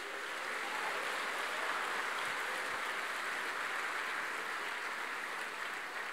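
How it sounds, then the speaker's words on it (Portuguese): Church congregation applauding and cheering in a sustained, dense wash that holds steady throughout, with no talk over it. "dá um brado de vitória, e um aplauso bem forte"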